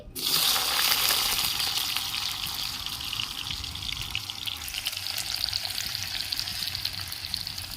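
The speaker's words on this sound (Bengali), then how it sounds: "কড়াইয়ের তেল গরম হয়ে গেছে আমি ছোট সাইজে দুটো আলু কেটে নিয়েছি তা তেলে আমি দিয়ে দিচ্ছি" Small-cut potatoes sizzle and fry in hot oil in a wok, a steady broadband crackle that flares loudly as they go in and then settles into continuous frying without talk.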